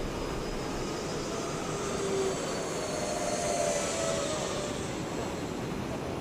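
An FMS 70mm A-10 Thunderbolt II EDF radio-control jet makes slow orbits overhead, its ducted-fan whine a steady, fairly distant roar with a faint tonal hum, holding at an even level throughout.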